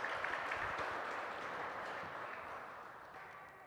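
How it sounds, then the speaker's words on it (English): Steady applause from a gym crowd for the Frontenac Falcons boys volleyball team at a bronze medal match, a continuous wash of clapping that slowly fades. "a big round of applause for the Frontenac Falcons"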